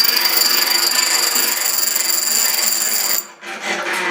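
A vintage hand-cranked bench grinder sharpens a blade held against its tool rest, giving a steady, loud grinding rasp that runs unbroken for about three seconds, then cuts off abruptly and returns more quietly.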